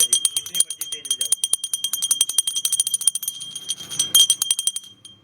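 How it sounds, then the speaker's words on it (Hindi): A small clay bell rung by hand at Diwali gives rapid bright jingling rings, loud and close and repeated in a quick rhythm, with people talking around it. "और ये मिट्टी घंटी है"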